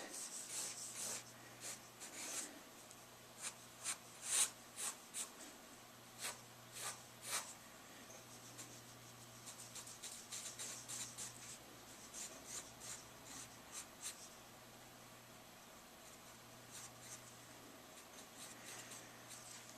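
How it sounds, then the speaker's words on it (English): A pencil sketches a girl's face on paper with soft, close rubbing strokes in quick irregular bursts, faint and steady over a quiet background hum. "I'm going to draw a face."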